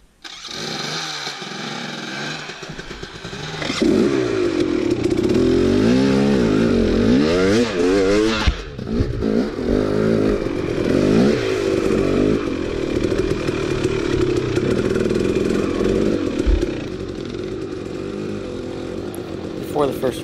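A 2017 KTM 250XC two-stroke dirt bike revs and rides, the engine note rising and falling in repeated throttle bursts before holding a loud, steady drone close by.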